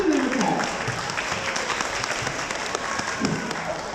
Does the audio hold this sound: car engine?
no